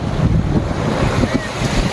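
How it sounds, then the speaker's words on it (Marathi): Steady, roaring rush of heavily falling water fills the scene, a broad continuous wash of noise with wind buffeting the microphone. "तुम्ही पाहू शकता कसला खतरनाक धबधबा आहे"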